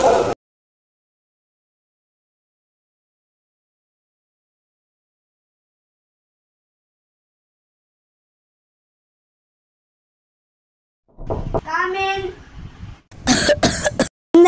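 A person coughs in a short burst at the start, followed by a long silence, then a voice speaks and another cough or throat-clearing rasp comes near the end, close and fairly loud.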